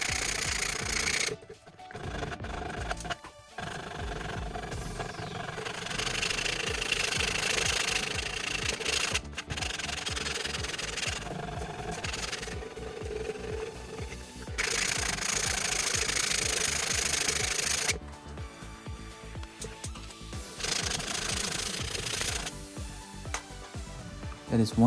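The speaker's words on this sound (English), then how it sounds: "The pieces are cut, now moving on to sanding the plank." A scrap wood plank being sanded, a continuous loud gritty whir and rubbing that runs almost without break, with brief drops and short pauses between passes.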